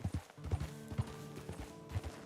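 Horse hooves in Red Dead Redemption 2, a short run of clip-clop steps in an uneven, playful rhythm, close and fairly clear with no talk over them.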